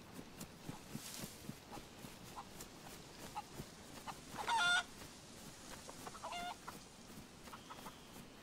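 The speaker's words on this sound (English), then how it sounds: "There's a chicken." A chicken in the video game DayZ gives a short burst of clucks and a couple of fainter clucks afterward, distant and quiet against a low, noisy outdoor ambience.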